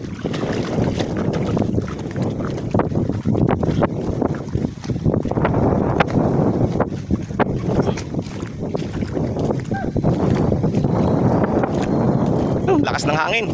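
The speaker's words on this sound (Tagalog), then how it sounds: "Lakas ng hangin." Strong gusting wind buffets the microphone at the seashore by open water at low tide, a constant roar with bursts of rumble, while people talk underneath.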